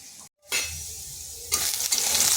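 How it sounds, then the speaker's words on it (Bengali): Potatoes fry in hot oil with a loud, steady sizzle, broken by one brief dropout near the start and then swelling brighter as they are stirred, alongside a bitter gourd dish being prepared. "আলুটা ভাজা হয়ে গেছে, তুলে নিচ্ছি"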